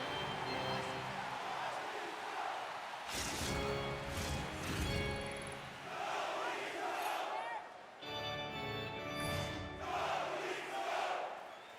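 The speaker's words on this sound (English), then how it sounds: "Crowd is chanting, "Go Leafs, go," hoping to stir us on here" A large arena crowd in the NHL 24 hockey video game roars and chants "Go Leafs, go" in a steady, loud, rhythmic wash that swells and dips, with brief sharp impacts breaking through midway.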